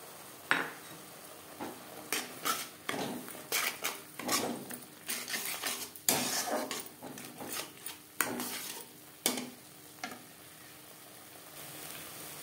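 Spices with salt, turmeric and cumin powder being stirred in a pan for egg curry: a quiet run of irregular spatula scrapes and clinks over a faint sizzle, with no talking.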